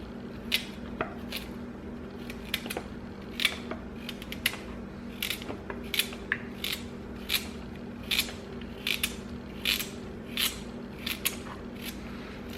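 Quick, irregular knife cuts through vegetables being chopped for a Jamaican run-a-boat pot, crisp clicks and taps at close range over a low background hum, no talking.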